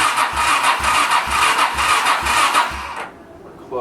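A Honda VT700 motorcycle engine cranks without choke in a rhythmic series of about six loud chugging turnover pulses, then the starter cuts off and it falls nearly silent.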